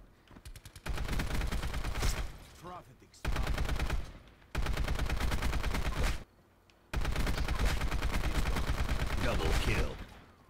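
An AN94 rifle fires in a video game. Long rapid-fire bursts rattle out in three extended strings separated by brief pauses, loud and close.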